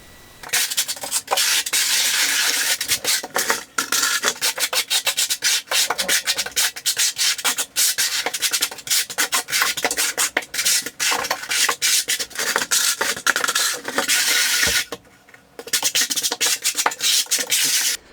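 A trowel scrapes leftover thinset mortar across a floor to fill low spots, heard as loud, continuous gritty rubbing in long strokes up close, with a brief pause near the end.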